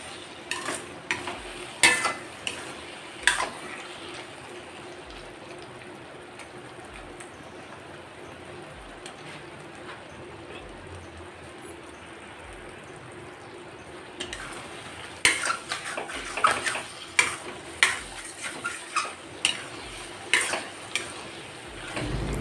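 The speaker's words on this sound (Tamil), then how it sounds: "திருப்பி திருப்பி கிண்டி விடணும்." Mango pickle with spice powder and oil is stirred in a pan: rhythmic bursts of spoon scraping and clatter against the metal over a faint, steady sizzle, with a quieter stretch in the middle, close and without speech.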